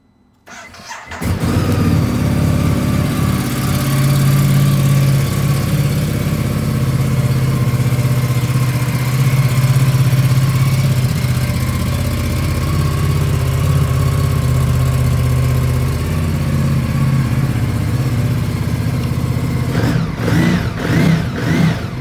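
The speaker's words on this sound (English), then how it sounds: "I'll go ahead and quickly start it up for you." A 2018 Ducati Multistrada 950 S motorcycle cranks and fires up, then settles into a loud, close, lumpy idle with occasional blips of revving, ending in a few sharp throttle bursts, with no voices.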